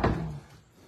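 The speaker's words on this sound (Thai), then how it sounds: "มึงดูดิเสียงประตูขยับอ่ะ" A door shifts in a supposedly haunted abandoned school, giving one short, close knock-like thud that rings briefly and then fades into quiet room tone.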